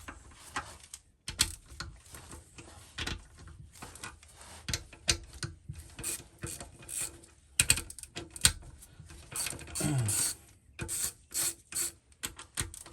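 Ratchet wrench clicking in bursts as cylinder head nuts on a Hillman Imp 875cc engine are cracked loose, close and fairly quiet, with short rapid pawl clicks separated by brief pauses.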